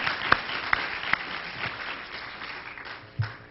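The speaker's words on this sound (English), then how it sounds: "Let's give him a round of applause" An audience at Morehouse College applauds, a moderate wash of clapping with a few sharp individual claps standing out early, then thinning and fading out within a few seconds.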